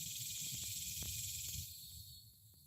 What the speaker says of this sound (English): That's cicadas.